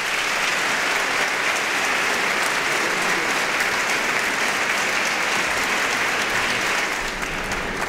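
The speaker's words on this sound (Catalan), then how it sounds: "Un aplaudiment per a ells." Sustained, dense applause from a large audience at a Christmas folk song festival for an adult school choir, steady and full throughout the whole stretch with no talk.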